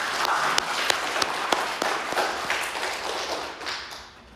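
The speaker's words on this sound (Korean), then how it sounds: "우리 다 함께 영광의 박수를 하나님께 올려드리겠습니다" Korean church congregation clapping together during an Easter sermon, a broad, steady wash of hand claps with a few sharper single claps standing out, fading away toward the end.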